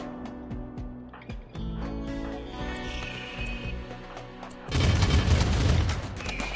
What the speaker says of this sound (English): some of the longer ranged enemies are taking shots on my